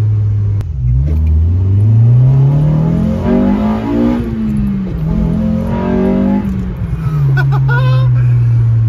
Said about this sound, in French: Qu'est-ce que ça fait un joli bruit ce VTEC, putain!